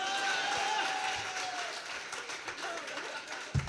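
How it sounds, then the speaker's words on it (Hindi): Audience applause at a Hindi comedy poetry gathering, a hasya kavi sammelan, fills the clip with steady, dense clapping from a crowd, fairly loud and sustained, with a faint tone fading early and a thump near the end. "इस बार तालियां इधर से बड़ी वाली चाहिए"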